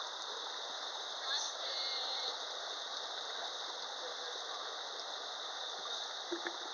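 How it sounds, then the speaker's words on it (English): Steady broadband rush of a Yosemite waterfall pouring into a river, a continuous hiss with no clear breaks and faint splashes near the end. "There's a waterfall. It's flowing over."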